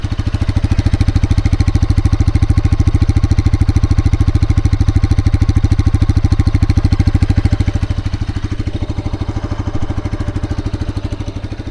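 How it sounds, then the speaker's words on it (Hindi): A 2024 Bajaj Pulsar RS 200 motorcycle idles with a steady, rapid, even engine pulse, loud and close to the mic, easing slightly in level toward the end. "तो ऐसे में इंजन को स्टार्ट करता हूँ। तो आइडल पोजीशन में जो है ना इस प्रकार की जो है ना साउंड आपको जो है ना वो सुनाई देने वाली है"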